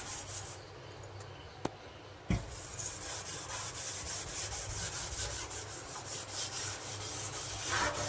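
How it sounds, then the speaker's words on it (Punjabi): A new scrubber rubs over a steel kitchen sink with steady, close, continuous scrubbing strokes. A sharp knock cuts in early, and the rubbing grows slightly louder toward the end. "ਹੁਣ ਆਪਾਂ ਇਹਦੇ ਨਾਲ ਰਗੜਾਂਗੇ ਇਹਨੂੰ ਚੰਗੀ ਤਰ੍ਹਾਂ"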